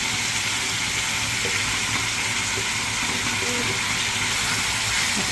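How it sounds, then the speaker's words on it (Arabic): Chicken and onions sauté in a pan, a steady close sizzle and hiss that runs unbroken throughout, with faint stirring underneath. "حطيت لها البصل، سيبها بقى تتشوح هي والبصل كويس"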